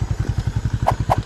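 A motorcycle rides along a rocky river trail, its engine thumping in a steady, fast, even rhythm close by, with a couple of light knocks near the end.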